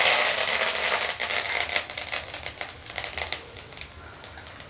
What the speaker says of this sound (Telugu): ఆయిల్ హీట్ అయిందండి. ఇప్పుడు ఇందులోకి పోపు దినుసులు,